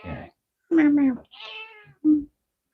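Several short, loud meow-like calls come close together in a workshop, separated by silent gaps, with a voice nearby at treat time.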